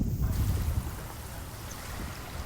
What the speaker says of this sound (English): The wind's up quite a bit.